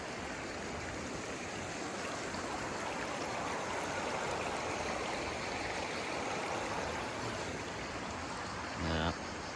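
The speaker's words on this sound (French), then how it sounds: "La petite rivière où je suis." A small river flows steadily and close by, a dense, even rush of water that holds without pause, with a brief knock of handling noise near the end.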